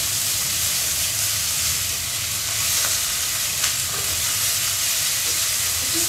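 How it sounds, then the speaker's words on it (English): Garlic sizzles and sautés steadily in a hot pan, a loud, continuous frying hiss with occasional small stirring clicks and no talk over it. "we just want to saute it for a few moments to release the oils and really get that roasted garlic flavor"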